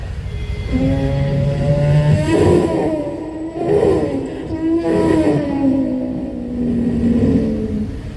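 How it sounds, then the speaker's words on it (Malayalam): Super cars passing by on a road, engine notes rising and falling in overlapping pitched roars as several vehicles sweep past fairly close and loud. "സൂപ്പർ കാർ നമ്മുടെ മുന്നിലൂടെ പിന്നെ പാസ് ചെയ്ത് പോകുമ്പോഴുള്ള ശബ്ദം"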